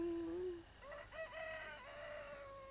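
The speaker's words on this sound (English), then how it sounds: "And cock-a-doodle-doo." A rooster crows once in the video game Recycling Center Simulator, a fairly quiet, drawn-out call with wavering pitch that fades into a soft electronic background.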